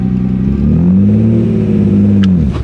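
A Nissan GTR pulls away under a steady, loud engine drone that rises and falls in pitch as it accelerates through the gear, heard from inside the car on its first drive, with a brief click near the end.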